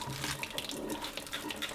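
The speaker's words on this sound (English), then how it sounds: "I just kinda rinse them off like this" Tap water runs in a steady, soft stream as vegetables, including a pepper, are rinsed under it. The rinsing is faint and continuous, with no talking.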